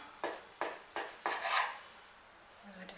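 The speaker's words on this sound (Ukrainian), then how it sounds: "Так, ось так от нарізаємо." A knife cuts through baked pork belly in four quick, crisp strokes, each a short scraping rasp, followed by a quiet pause.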